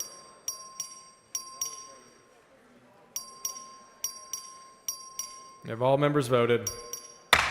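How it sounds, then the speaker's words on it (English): Voting bell in the Texas House chamber rings in repeated sharp dings with a steady sustained tone between them, then a voice speaks briefly over it before one last loud ding. "Clerk, ring the bell."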